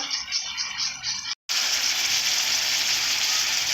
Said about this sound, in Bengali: এইভাবে কষে নেব এইভাবে কষে নেওয়ার পর